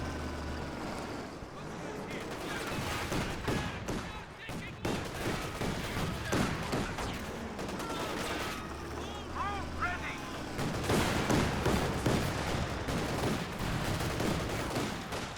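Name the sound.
gunfire in the Company of Heroes 2 video game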